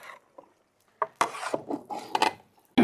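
Mutton masala for biryani being stirred in a pot, a spoon scraping and knocking against metal in short, uneven bursts with quiet gaps, close by and without speech.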